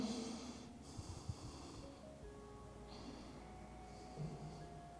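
Slow, deep breathing during a yoga forward bend, a faint, close nasal whoosh of air drawn in and pushed out over a soft background hum, with no talking.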